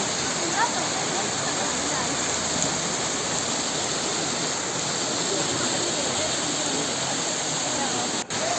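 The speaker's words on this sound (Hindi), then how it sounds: "झरना काफ़ी ऊंचाई से गिर रहा था" Waterfall dropping from a great height beside the entrance gate of Rock Garden in Darjeeling, a steady, loud, close roar of falling water that holds unbroken throughout.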